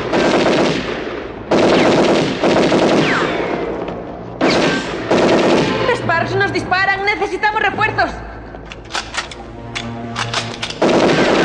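Machine-gun bursts and single gunshots ring out in a film shootout, loud and near, with shouted Spanish dialogue and other voices mixed between the rapid volleys.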